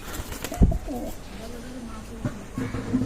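Pigeons coo nearby in a pigeon loft in low, rolling calls, with a few soft thumps and rustles, fairly close and moderately loud.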